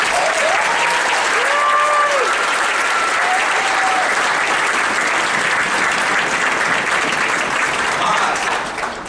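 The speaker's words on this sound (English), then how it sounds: "would you give me, before we play the first note, a round of applause to these guys" A sustained round of applause from a concert audience for students of a high school intermediate band at a Christmas concert, dense and loud throughout, with a few faint voices mixed in before it tapers slightly at the end.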